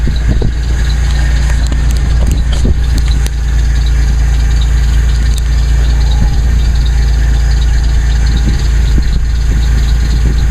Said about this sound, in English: I'll let you hear a little exhaust note. It's stock, so it's nothing special.